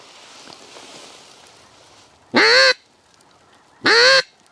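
Two loud, nasal snow goose honks, a second or so apart, ring out over quiet background noise.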